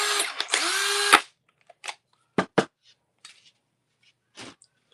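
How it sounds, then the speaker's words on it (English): A Milwaukee M18 cordless drill whirs loudly for about a second with a brief speed change, then stops, followed by a few short clicks and rattles. "giveaway is going to be this drill"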